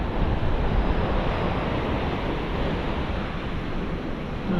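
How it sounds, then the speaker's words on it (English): Ocean waves on a fishing beach roar in a steady, broadband wash mixed with wind buffeting the microphone, loud and continuous without any talking. "the waves are pushing it in"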